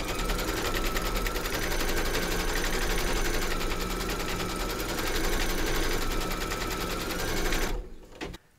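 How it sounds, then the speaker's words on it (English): An embroidery machine stitching round 2 on hooped fabric and batting, a rapid steady mechanical chatter of the needle running continuously at close range, then stopping abruptly near the end. "Pop your hoop into your machine and stitch round number 2"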